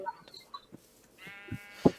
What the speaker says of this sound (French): Tu vas bientôt mourir, mouton.